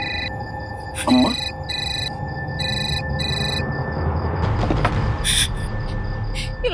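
A phone rings and goes unanswered, with repeated short electronic trills in regular bursts over a busy background of rumbling, train-like noise. A voice briefly cuts in.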